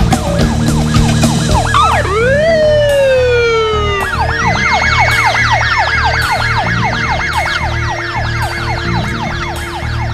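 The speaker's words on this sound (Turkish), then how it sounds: "Bu siren sesleri de nereden geliyor?" Loud police sirens wail and yelp, several overlapping tones sweeping up and down rapidly, close by and continuous.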